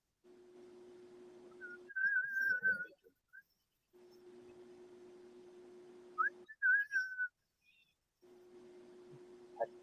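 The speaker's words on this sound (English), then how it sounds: "I think it's a bird." By the Schuylkill River, a bird gives a clear, thin whistling call in short bursts over a steady low hum, heard fairly close with quiet pauses between phrases.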